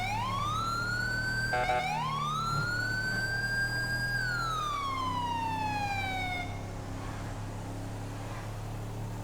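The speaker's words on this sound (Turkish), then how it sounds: "Siren açmak lazım." A police siren wails in a rising and falling sweep, loud and close, with a steady engine rumble beneath and no talking, from a police vehicle in GTA 5.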